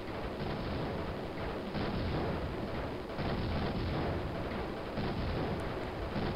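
Continuous, dense gunfire and blasts from the retro shoot-'em-up game Raptor: Call of the Shadows form a loud, muffled, rumbling barrage that never lets up.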